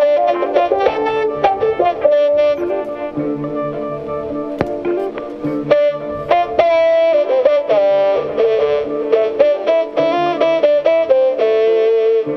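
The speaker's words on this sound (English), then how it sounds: "then I have the other synth, which sounds like this." A bright synthesizer lead from a guitar rig plays a busy, rhythmic run of notes for several seconds, loud and continuous with no talking.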